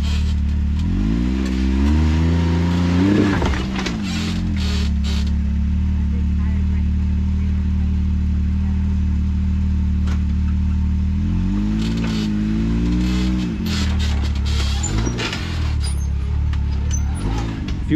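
An off-road vehicle's engine revs hard in surges while crawling over rock at an off-road park, with the rising and falling roar up close and people talking over it.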